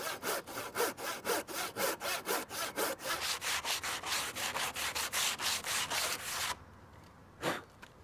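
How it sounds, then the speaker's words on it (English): Tenon saw cutting through wood while building a garden bench, rapid regular back-and-forth strokes close up and loud, stopping near the end with one brief scrape after a pause. "I'm going to use the tenon saw because it's rigid and will give me a great straight cut."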